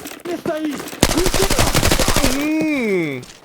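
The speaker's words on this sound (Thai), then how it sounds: "โอเคเดี๋ยวผมไปตามเสียงปืนเลยแล้วกัน" A rapid burst of automatic gunfire in the video game Arena Breakout: Infinite, with a voice talking over it.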